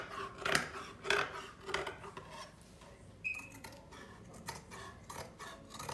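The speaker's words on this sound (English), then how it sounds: "So you support with one hand and carry on to cut it." Scissors cut through fabric along a chalk line in a few crisp, close snips, followed by softer rustling and sliding sounds with no talking.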